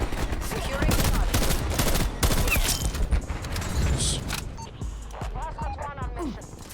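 Rapid AUG burst-fire gunfire in Call of Duty Black Ops Cold War, loud repeated short volleys packed densely through the first half, thinning out to scattered shots and game effects later, with a voice talking over part of it.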